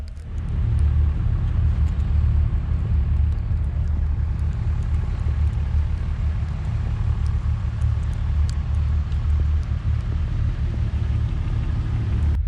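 A vehicle drives along a snowy mountain road past meadows, a steady low engine and tire rumble heard close and continuous throughout, with no talking.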